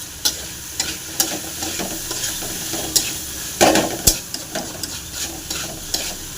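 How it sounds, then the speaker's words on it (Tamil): A water apple dish is stirred in a pan on the heat, with lemon juice added. A steady soft sizzle runs under a series of sharp scraping and clinking strokes from the stirring spoon, close and fairly loud, with no voices. "நல்லா கலக்கி விட்டுங்க"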